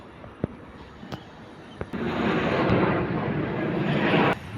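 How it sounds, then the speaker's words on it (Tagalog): Fighter jets pass overhead, a broad, loud roar building suddenly and holding for a few seconds before cutting off, with a few sharp clicks and pops heard beforehand. "May mga party fighter jet dumadaan. Ang ingay."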